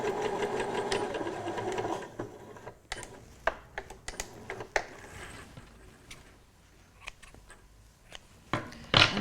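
A sewing machine stitches the seam allowance of a bridesmaid dress in a steady whirring run for about two seconds, followed by scattered clicks and handling of fabric.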